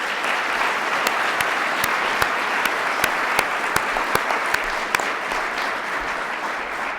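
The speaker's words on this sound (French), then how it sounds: "Applaudissons chaleureusement Mme Harton et M." A large audience at a national agricultural merit award ceremony claps steadily and warmly, a dense, even roar of hands with a few sharper claps standing out, sustained from start to finish.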